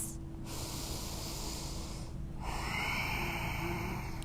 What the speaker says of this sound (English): We'll take 3 breaths in and out.